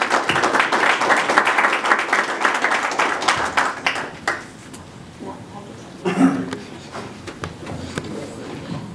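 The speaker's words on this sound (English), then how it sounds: "So just give him a round of applause." Audience applauding an invited guest at an evening talk, a dense burst of clapping that thins out and fades into scattered claps and quiet voices.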